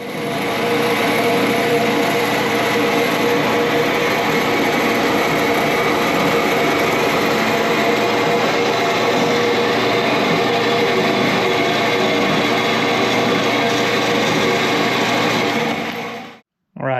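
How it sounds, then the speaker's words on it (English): A bandsaw cuts through a metal part for a Chevy air-suspension job in a shop, a loud, steady grinding whine that runs unbroken for about sixteen seconds, then cuts off abruptly. "go put it over here in the bandsaw, cut this end off, and then we will put a little chamfer in it with the lathe"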